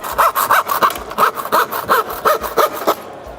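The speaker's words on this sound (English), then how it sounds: "Well, cutting. This is a standard woodworking tool." A standard woodworking hand saw cuts through aluminium fascia in quick, even back-and-forth strokes, about a dozen rasping passes in steady rhythm, close and loud, with no talking.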